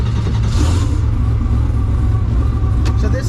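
A 1600hp twin-turbo Ford Mustang engine rumbles steadily and loudly from inside the car, a deep continuous drone with a brief rise partway through.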